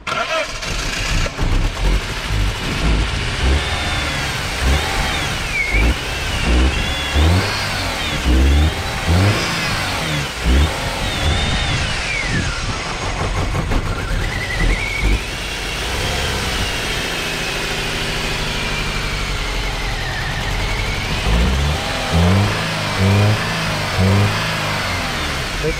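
A BMW E46 car being jump-started on direct current cranks, catches and runs, its engine revving up and down unevenly for a long stretch, close and loud, with people talking over it.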